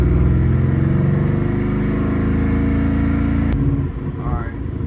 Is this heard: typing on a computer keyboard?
no